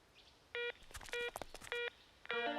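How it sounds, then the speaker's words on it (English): Telephone keypad tones beep four times in a cartoon, each short dial tone spaced evenly apart over faint clattering, ending with a longer double tone. "Why don't we call Doc and ask him?"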